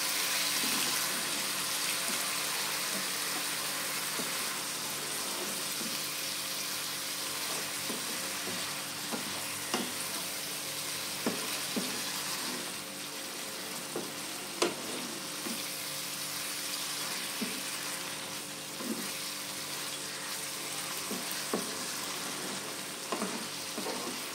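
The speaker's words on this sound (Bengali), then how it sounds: "একটু জল দিয়ে কষাবো যাতে মশলাটা লেগে না যায় আর ভালো করে কষা হয়" Spice masala frying in a pan with a splash of water added, for a Bengali prawn fritter curry: a steady, close sizzle with scattered clicks and scrapes of stirring, no voices.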